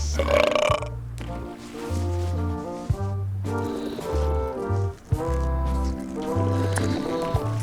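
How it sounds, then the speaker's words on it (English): Loud, drawn-out burps in a burping contest from the video game Return to Monkey Island, several belches in a row over a bed of cartoonish game music. "They're excellent for burping contests."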